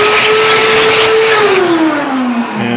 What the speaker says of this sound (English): I brought my vacuum cleaner over here, and every so often I just turn on the vacuum cleaner